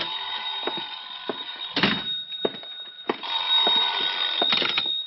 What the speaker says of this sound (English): sorry, I think that's my phone.